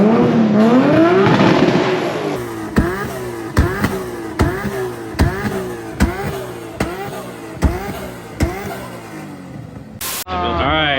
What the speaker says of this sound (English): we had to end that abruptly because of the backfire. Because of the ripping and the tearing